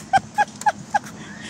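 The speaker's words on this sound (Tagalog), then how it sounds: "May pato sila, oh." Ducks at a park pond resort in Unaizah, Saudi Arabia, give four short nasal honking quacks in an even rhythm, close and clear over faint background noise.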